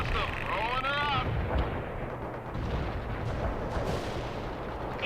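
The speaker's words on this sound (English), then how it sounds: "Incoming fire!" Artillery and gunfire boom and crack in a World In Conflict battle, dense rumbling blasts under a brief synthetic radio-like tone and some faint voice chatter.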